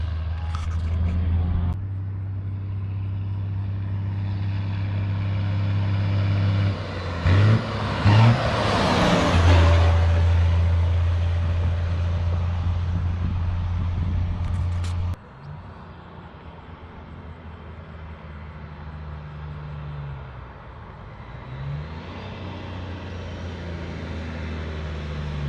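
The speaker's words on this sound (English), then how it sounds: "That truck sounds so good, and it looks so good." A Loadstar truck fitted with a turbo drives along, its engine a steady, fairly loud low drone that swells midway, then drops abruptly and continues more quietly.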